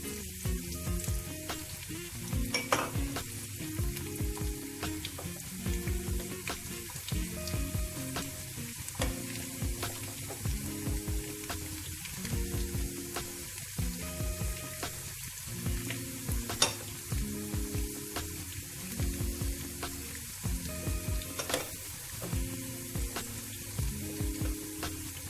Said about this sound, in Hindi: यहाँ पर हमने फ्राई पैन लिया है, उसमें मैंने तेल डाल दिया है। इसमें अब हम लहसुन डालेंगे।